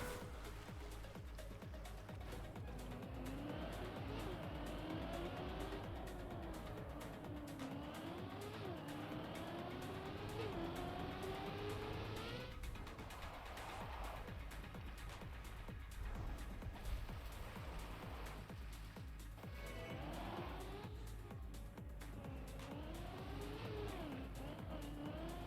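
Racing game cars rev and accelerate continuously, engine tones climbing and falling through gear changes with occasional tire squeal, a steady loud mix throughout.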